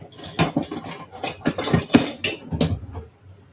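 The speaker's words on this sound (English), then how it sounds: "We're also going to stir it a bit." A utensil stirs a pot of salted spaghetti water, giving a quick run of close, bright metallic clinks and scrapes against the pot in an irregular rhythm.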